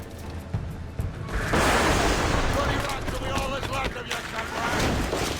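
Booming, rumbling blasts of cannon fire in Assassin's Creed IV Black Flag, loud and continuous, with heavy crashing impacts layered over each other and a voice underneath.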